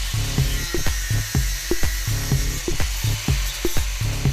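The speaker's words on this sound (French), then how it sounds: "Avec une meuleuse d'angle, cela est facile." Angle grinder fitted with a metal-cutting blade working through a steel tubular motor axle, a close, loud buzzing grind pulsing in a steady rhythm of roughly four strokes per second, with no talking.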